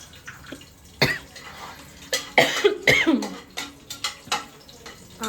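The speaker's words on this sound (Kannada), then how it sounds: "ನೀವು ಒಗ್ಗರಣೆ ಸ್ಮೆಲ್ಗೆ ಕೆಮ್ಮು ಬರ್ತಾ ಇದೆ ನನಗೆ." Several sharp coughs burst out one after another, close and fairly loud, set off by spice tempering fumes, mixed with clatter and sizzling sounds from a busy kitchen where vegetable biryani is being cooked.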